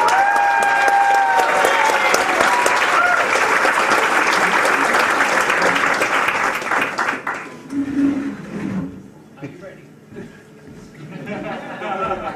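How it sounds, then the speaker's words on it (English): Audience applause at a BettaKultcha presentation evening in Leeds, loud and sustained for about seven seconds before dying away into scattered claps and murmuring as the next presenter steps up. "So I want you to give a big round of applause"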